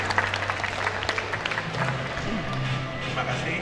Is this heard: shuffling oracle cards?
no